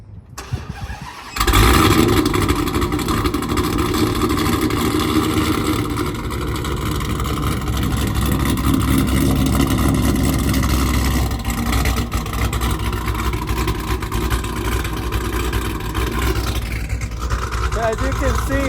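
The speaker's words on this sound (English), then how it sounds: "Here, let me give you guys a little startup." A cammed Dodge Hellcat fires up after a short quiet moment, bursting into a loud, close roar that settles into a lumpy, steady idle for the rest of the stretch.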